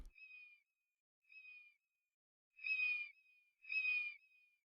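A bird chirp sample at normal pitch, used for Star Wars style sound design: four short, bright chirping calls in an even rhythm, the last two louder and fuller, heard alone against silence.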